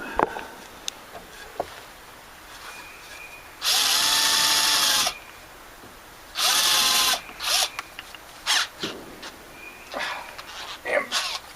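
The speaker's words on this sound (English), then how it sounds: "drill bit keeps slipping in the drill" A power drill boring into a deck rail during a repair, two loud sustained whirring bursts of about a second each, followed by shorter stuttering pulses as the bit slips, with someone talking in between.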